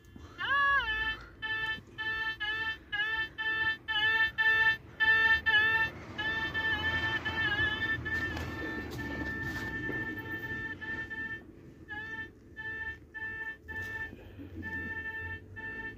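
Minelab Excalibur metal detector giving repeated electronic beeping tones, first in quick regular pulses, then more continuous warbling over a faint background hum.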